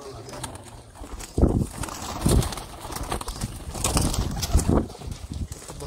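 Sialkoti pigeons coo in a few soft low bursts, close by, over a steady background hum with some flutter and faint voices.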